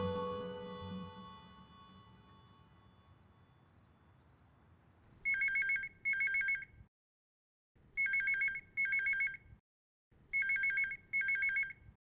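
A telephone rings unanswered in three pairs of electronic trill bursts, loud and close, with silent gaps between pairs, after a fading musical passage.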